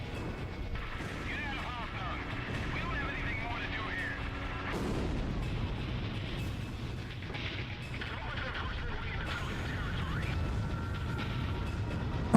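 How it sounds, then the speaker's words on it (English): Bombs falling and exploding in the Ace Combat Zero flight combat game: a continuous heavy roar of blasts and rumble, with stronger booms breaking through around the middle and near the end, all under a steady mix of game noise. "You can hear the bombs dropping."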